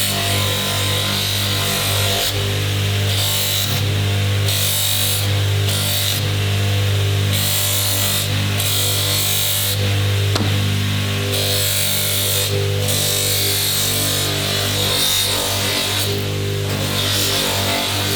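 A buffing wheel spins against the edge of a leather belt, giving a steady loud motor hum with a continuous rubbing whir that swells and eases in short bursts as the edge is pressed on.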